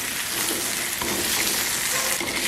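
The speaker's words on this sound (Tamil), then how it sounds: "சரி, மிளகாயை நல்லா வதக்கு மட்டும் விடுவோம்." Curry chillies sautéing in oil in a pan, a loud, continuous bright sizzle and crackle with a few stirring scrapes, no talking.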